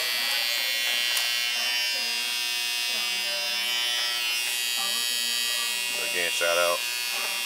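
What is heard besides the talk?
Bevel electric beard trimmer buzzing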